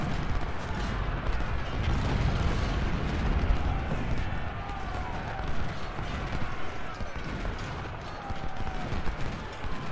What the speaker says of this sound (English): They keep getting hit by artillery every time I try and move them.